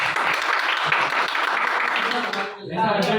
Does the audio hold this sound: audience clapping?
yes